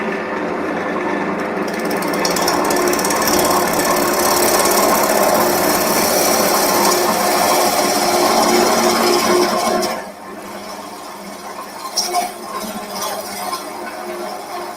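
Wood lathe spinning a workpiece clamped by the tailstock while a tool takes a light finishing pass, a loud steady whirring hum with scraping texture that drops to a quieter run partway through, with no talking.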